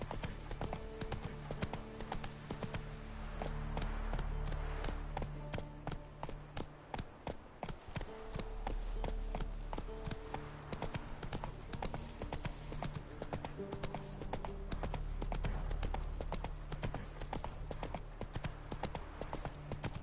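Roach, the horse in The Witcher 3, gallops with a steady, rapid clip-clop of hooves throughout, close and continuous, with a rhythmic gait over faint background ambience.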